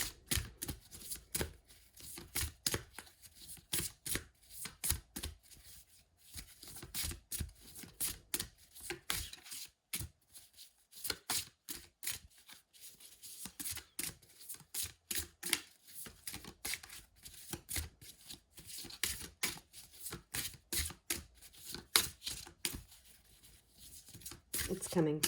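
Tarot cards are shuffled and riffled over and over in quick, papery bursts of slaps and flutters that continue for the whole stretch, close up, with a quiet voice talking intermittently among them.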